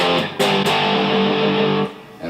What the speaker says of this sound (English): with your amp cranked up to 10 with some distortion really kicking